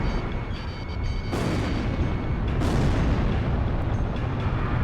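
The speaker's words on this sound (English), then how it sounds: "GOM 1, missile launched." A missile launches and explodes in a military video game, giving a sustained roaring rumble with two sharp bursts, loud and close, with a steady dense low-end wash throughout.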